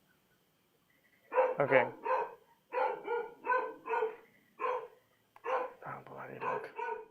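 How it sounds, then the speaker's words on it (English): Dog barking in the background of an indoor home setup, a string of about eight short barks in quick bursts, fairly close and prominent, with a brief spoken word among them. "I see if I maybe make the sound a bit less for you, so you don't hear the dog as much."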